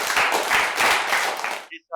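An audience at a Hindi poetry recital claps to welcome a poet on stage, a steady burst of applause lasting under two seconds before cutting off abruptly.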